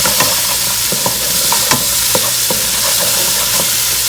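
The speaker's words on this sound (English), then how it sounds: "cook all of your tomato paste because you don't want the rawness of the tomato paste" Tomato paste and conch sizzle and fry in a pan, a constant hiss broken by the regular scrapes and knocks of a spoon stirring, close and loud with no talking.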